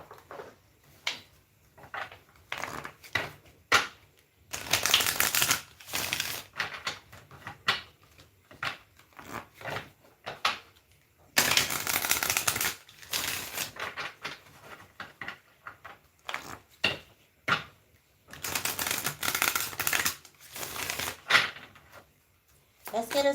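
Tarot cards are handled and shuffled in bursts of papery riffling and shuffling, some bursts loud and dense and others brief, recurring throughout at close range.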